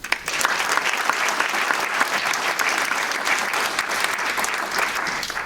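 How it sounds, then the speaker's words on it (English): A room of meetup attendees claps steadily after evening startup demos and a panel on enterprise sales, a dense, even wash of applause throughout with no speech over it. "And of course, also another round of applause for the 3 demos this evening."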